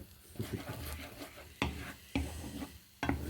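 Eggs with vegetables, a Cypriot omelette-style dish, cooking in a pan: soft sizzle and stirring with a few sharp scrapes or taps of a utensil against the pan, close by.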